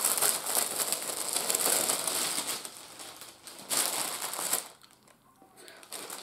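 A sturdy plastic bag is crinkled and crushed by hand up close, giving continuous loud crackling rustles that ease off briefly near the end before resuming.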